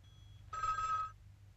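A bright electronic telephone bell rings once, a short half-second burst that is clear and close against a low background hum, with no talking.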